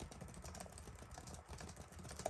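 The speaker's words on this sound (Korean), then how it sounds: "타이핑을 잠깐 해보겠습니다." Typing on the keyboard of an HP OMEN 15 gaming laptop, a quiet, quick patter of light key clicks heard close up with no talking.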